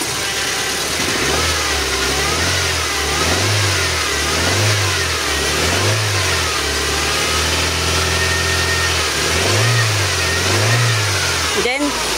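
A car engine revs repeatedly in a regular pattern of rising and falling bursts, with a steady loud running note between the blips, close and clear, and a voice speaking faintly underneath.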